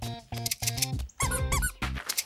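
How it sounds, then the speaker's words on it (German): A squeaky toy bone in a cartoon squeaks repeatedly in short, bright bursts, several quick squeaks grouped with brief pauses between them, close and clear. "Das ist ein hübscher kleiner Quietscheknochen."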